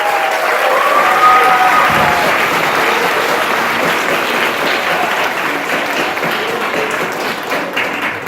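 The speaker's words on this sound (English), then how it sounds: "We give them another round of applause." A school band and choir concert audience at Selma Middle School applauds the performers, a loud, full wave of clapping that holds steady and tapers gently toward the close.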